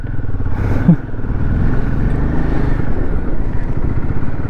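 A motorcycle rides a dangerous mountain road in Ladakh, its engine a close, steady, loud drone that holds throughout with a slight rise near the start.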